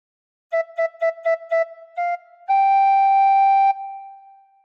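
Tin whistle plays a phrase of Joy to the World: five short repeated notes on one pitch, a slightly higher short note, then a long sustained higher note that steps down and fades, clear and alone.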